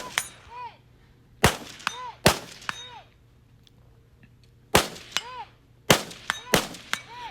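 Rifle shots ring off steel targets during a long-range shooting match, several sharp cracks each followed by a metallic ping, spaced in irregular bursts over a quiet outdoor background.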